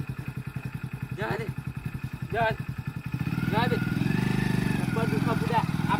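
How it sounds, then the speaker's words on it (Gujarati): A motorcycle engine idles with a rapid, steady putter close by, then revs up louder and rougher partway through, while people talk over it in short exchanges. "બાઈક ચાલુ કર જલ્દી ચાલુ"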